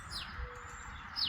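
Birds at a campsite give a couple of faint, short chirps over a low, quiet outdoor rumble, brief and somewhat distant.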